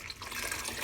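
Water pours steadily into a pot of hamburger soup with beef broth, bay leaf, garlic and carrots, a brief, close, continuous splashing fill.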